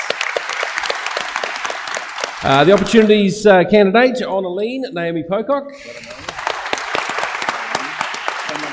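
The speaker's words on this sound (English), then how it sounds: "please give them a warm round of applause" Audience applause for candidates at a by-election debate, dense clapping at the start and again at the end, with someone speaking in the middle as the clapping dies down.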